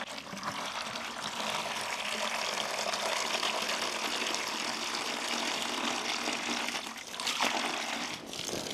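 Water being poured to fill a container with 5 gallons, mixed with hydrogel for soil in a home-built beaver dam project; a steady, close rushing pour runs nearly continuously with slight changes near the end.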